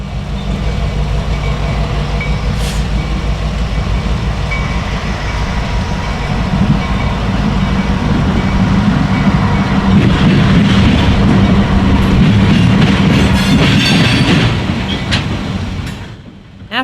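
A Norfolk Southern freight train rolls past on the Pennsy line near the CSX diamond at Lima, Ohio, a steady loud rumble of cars and wheels lasting the whole stretch, swelling slightly midway with clattering wheel noise near the end.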